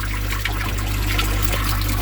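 Water from a garden pond filter and UV unit trickles steadily back into the pond through a one-way valve, a continuous close splashing dribble with no pauses or voices.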